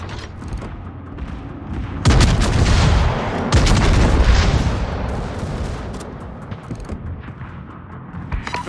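Heavy naval guns of the battleship Tirpitz fire in a naval combat game, a loud booming broadside near 2 s and another near 3.5 s, each trailing into a long rumbling decay over low ambient noise.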